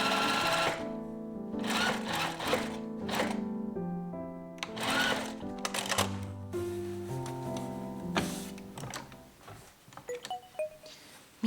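A sewing machine topstitches along the facing edge of a high-neck vest, a close, steady mechanical whir running in bursts and stopping and restarting between seams.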